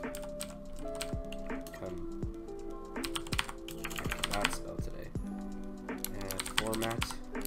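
Typing on a computer keyboard while entering script code for a GTA V FiveM mod, the key clicks tapping steadily under background music with tonal lines.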